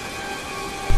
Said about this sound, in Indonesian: hujan deras mengguyur alas Baluran